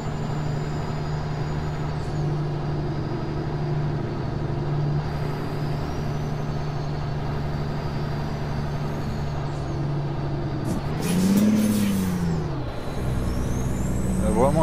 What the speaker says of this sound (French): Il y a vraiment un beau bruit de moteur.